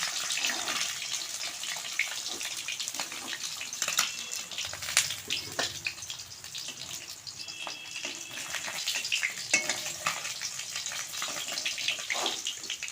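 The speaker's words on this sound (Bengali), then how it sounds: "লাল লাল করে ভেজে নেব মাছগুলো" Fish frying in oil in a pan gives a steady, close crackling sizzle that runs evenly throughout, with scattered sharper pops and no voices.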